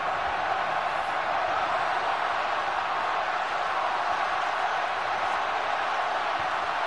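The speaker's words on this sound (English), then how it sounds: "The crowd urging them on once again" A rugby crowd at a Scotland match roars steadily, a broad sustained wash of cheering and shouting that stays level throughout.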